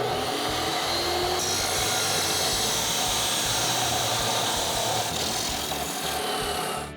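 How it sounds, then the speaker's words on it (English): A chop saw cuts through exhaust pipe for a Ford F-150 EcoBoost exhaust install, giving a loud, continuous grinding screech that holds steady for several seconds before trailing off at the end. "go out to our chop saw, get this cut off"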